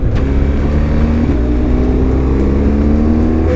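A KTM motorcycle engine drones loud and close on the Ebbetts Pass mountain road, a steady rumbling hum with a rising pitch, mixed with wind roar and no talk.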